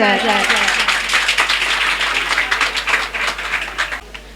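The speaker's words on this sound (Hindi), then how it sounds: "ताली बजाओ कुछ ऐसे कि महफिल भी गरमा जाए।" An audience claps at a children's day celebration, a dense burst of applause that rises quickly and fades slowly.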